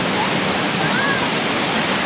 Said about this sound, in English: Gotta love the sound of rapids.